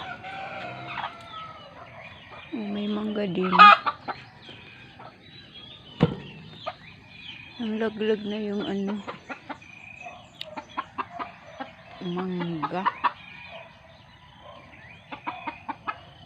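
Chickens cluck and a rooster crows in bursts nearby at feeding time in a backyard, while people talk briefly in between the calls.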